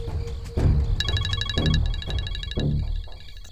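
A mobile phone rings nearby, an electronic ringtone of repeating bright tonal bursts over a low rhythmic musical pulse, lasting a few seconds with no one speaking.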